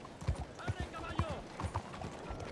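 Horse hooves clip-clop in Red Dead Redemption 2, a steady series of hoof strikes under a man's spoken lines, with game ambience behind.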